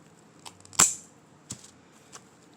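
A single sharp snip of scissors cutting off the end of a Dollar Tree Halloween craft piece, one crisp close click followed by a couple of fainter small clicks and rustles, no talking.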